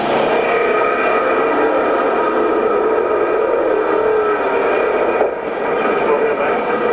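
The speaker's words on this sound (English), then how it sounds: "And then turn number 4, for the first time of the afternoon, we're going racing." Sportsman Division race cars roar together at the start of a 10-lap qualifier, a loud, dense, continuous engine drone holding steady throughout with a brief dip near the end.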